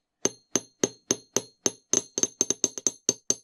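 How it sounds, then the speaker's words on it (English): A hammer taps the end of a wire on a wire-wrapped beaded earring, about fourteen sharp, close metallic clinks, evenly spaced at first and then quicker, with no talking. "Now this one's slipping too far down, so we'll just hammer that end a little bit more"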